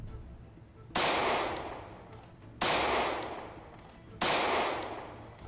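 Three loud gunshots fire in the zombie survival game Project Zomboid, evenly spaced about a second and a half apart, each a sharp crack with a decaying tail, alone without talk.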